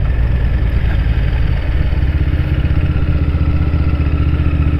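A Honda VTR1000 Firestorm V-twin motorcycle idling close by, producing a loud, steady, low throbbing rumble with mechanical clatter that holds constant throughout.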